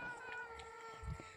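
A cat meows in the Minecraft video game, a short game-sound mew heard close over a steady background hum.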